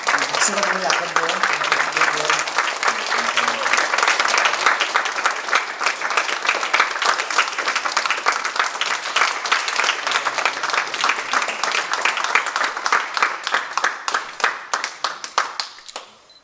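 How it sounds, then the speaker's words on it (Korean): A congregation at an ordination service breaks into sustained, dense applause filling the hall, with many hands clapping steadily before the clapping thins and fades near the end; voices are faintly audible early on. "박수가 너무 약한데요"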